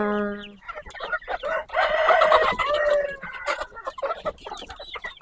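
A rooster crows loudly while several egg-laying hens cluck busily around it, close by and continuous.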